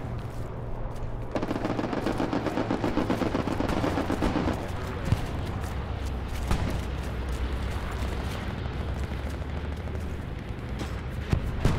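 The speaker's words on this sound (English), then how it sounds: "Bombing run coming in West Bend." Dense, continuous battle din from a Hell Let Loose bombing run, with rumbling blasts and crackling gunfire layered into a loud, unbroken wash and a few sharper booms near the end.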